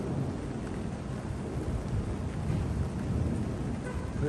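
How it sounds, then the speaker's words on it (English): Thunder rumbles through a rainstorm during tornado warnings, a low continuous roll blended with steady rain hiss and some wind buffeting on the microphone, heavy and sustained throughout. "More thunder."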